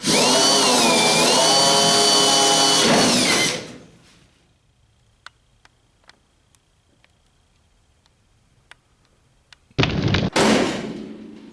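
A power drill whines loudly into Mustang Fastback rear sheet metal for several seconds, then stops; after a quiet pause with faint taps, a second short burst of drilling follows.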